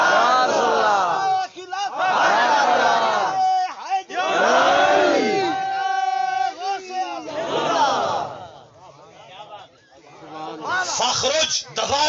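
Large gathering at a mehfil-e-milad devotional event, standing and loudly chanting a religious slogan in unison, with repeated swelling bursts of many voices answered back and forth, close and strong throughout.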